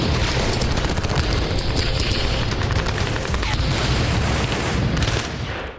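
Gunfire in a war zone as a Ukrainian soldier advances, a dense, loud wash of rapid shots and booms running almost continuously before easing off at the very end.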